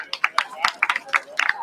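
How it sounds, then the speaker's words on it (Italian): Brief scattered applause from spectators as a canoe racer paddles past at a regional canoe championship, a few light claps and cheers outdoors, mixed with a commentator's voice over a loudspeaker. "Direi che si merita un bel applauso da parte di tutti noi."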